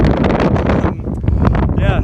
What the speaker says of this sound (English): despite how windy it may sound